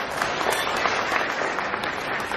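A crowd claps, a dense and steady patter of applause lasting a couple of seconds.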